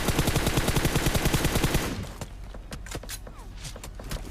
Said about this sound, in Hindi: मैं यहाँ स्मोक में एडजस्ट करने के लिए गोली चलाता हूँ